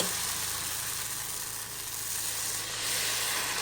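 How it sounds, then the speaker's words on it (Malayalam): Wheat dosa batter sizzling on a hot pan, a steady, close hiss and crackle that holds evenly throughout with a low hum underneath. "ഇതിലേക്ക് നമുക്ക് ദോശമാവ് ഒഴിച്ചെടുക്കാം"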